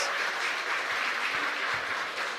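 A congregation at Mass in the Capilla San Roque chapel in San Lorenzo claps together, a moderately quiet, even wash of applause lasting a couple of seconds with no speech.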